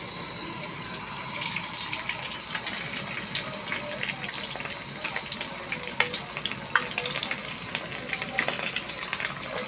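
Pork ribs sizzle and crackle steadily in hot oil in a pan, a dense continuous frying hiss with scattered pops and a few clinks throughout, no talking.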